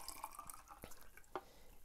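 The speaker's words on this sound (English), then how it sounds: "I can just pour it out now" Pyrocat-HD film developer poured out into an old developing jug gives faint trickling and dripping liquid sounds with a few soft clinks, quiet and close without speech.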